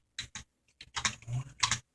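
Bursts of computer keyboard typing in quick clusters separated by short pauses, close and fairly quiet, with no talking.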